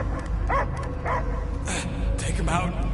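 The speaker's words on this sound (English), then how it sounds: "I hear only barking." Dog barking in a video game scene, a few sharp yelping barks spaced across three seconds over a steady game soundtrack, fairly close and loud.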